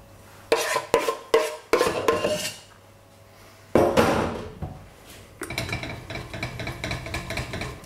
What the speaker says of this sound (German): Am besten Sie nehmen immer eine kleine Kelle und mit der Rückseite dann einfach durch Sieb durchdrücken.